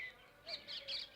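Small birds feeding their young give a run of three quick, high chirps close by, fairly soft and with no voices present.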